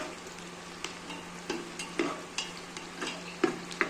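Khichdi ingredients sautéed in oil in a pan, with soft sizzling under scattered clicks and scrapes of a spoon stirring, close and moderately quiet.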